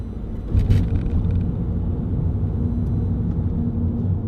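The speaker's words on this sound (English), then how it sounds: "That car will just pull up the hill virtually on its own, just on tick over." A 2008 Vauxhall Zafira 1.9 CDTi diesel pulls uphill at near-idle revs, giving a steady, low, droning rumble that continues throughout, with a brief rise in noise near the start.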